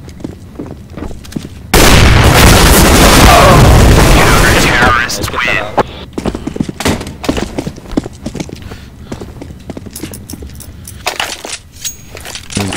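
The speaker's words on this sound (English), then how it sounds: "Throwing a grenade" A grenade explosion in a video game, a sudden loud roaring blast that holds for a few seconds and then fades into scattered clatter, gunfire and game effects, with a player talking throughout.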